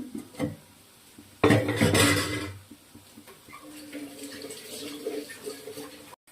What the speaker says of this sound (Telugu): కాకరకాయ ముక్కలు ఇట్లా వేయించుకోవాలి.